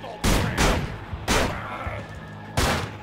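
Loud gunshots fire in Manhunt, four sharp broadband blasts spaced irregularly over a few seconds, each with a short decaying tail and a low steady hum beneath.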